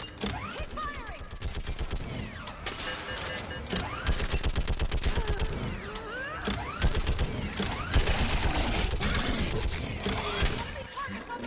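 Sustained automatic gunfire in the Mass Effect 3 sci-fi shooter, rapid rattling bursts repeating steadily through a loud battle full of whooshes and effects.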